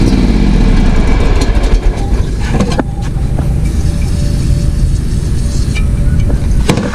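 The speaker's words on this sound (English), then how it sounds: "So this is my personal mower, and here's the problem it has." A gasoline lawn mower engine running with a problem, as if starved of fuel, produces a loud, close, steady low mechanical drone with slight unevenness and occasional clicks, no talk over it.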